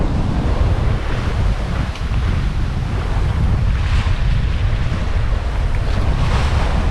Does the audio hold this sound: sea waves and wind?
yes